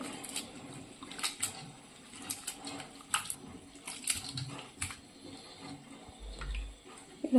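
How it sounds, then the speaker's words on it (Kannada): Fresh fenugreek leaves are washed by hand in a vessel of water, with repeated splashes and sloshing bursts at close range and no talking. "ಸ್ವಚ್ಛ ಹೆಂಗೆ ತೊಳಿಬೇಕ್ರಿ ನೋಡ್ರಿ ಈ ಥರ ಎಲ್ಲ ಹೊಲಸಿರ್ತದೆ ಇದು"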